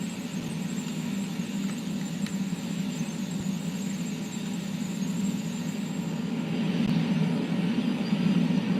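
A Learjet landing on instant replay in Flight Simulator X, heard as a steady, droning jet engine hum and whine that stays level throughout and swells slightly toward the end.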